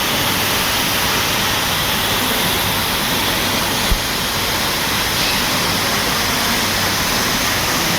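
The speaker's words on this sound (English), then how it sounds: "This is the present waterfall level at Kapilitirtham" The Kapila Theertham waterfall in Tirupati, its flow lowered after flooding, pours with a loud, continuous rushing roar, broken only by a single brief knock midway.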